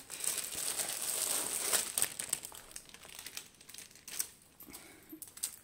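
Plastic wrapping crinkles loudly and up close as a Fansells diamond painting storage box is unwrapped. A dense, crackling rustle fills the first few seconds, then breaks into scattered crackles and taps.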